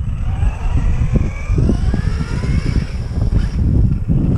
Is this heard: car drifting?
yes